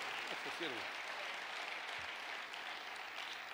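Congregation applauding at a Spanish-language evangelical church service in Mexico: a steady wash of clapping hands fills the room, with a few brief voices calling out near the start.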